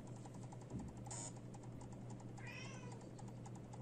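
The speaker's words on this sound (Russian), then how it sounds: "У меня кот мявкает." An indoor house cat lets out a short meow and then a longer rising one, close by, while keys clatter in a steady tapping rhythm and a low hum runs underneath.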